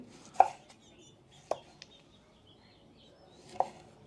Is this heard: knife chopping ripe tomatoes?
yes